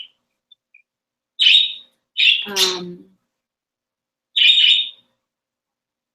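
Pet birds indoors give three shrill, squawking calls in separate bursts, loud and close, with a short stretch of faint voice between them and quiet gaps around each call.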